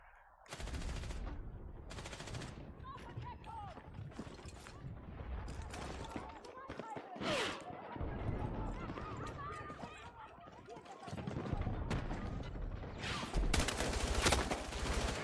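Dense automatic gunfire from the video game Battlefield 6, rattling in long bursts with scattered single shots and explosive cracks, loud and close, mixed with speech and battlefield noise throughout.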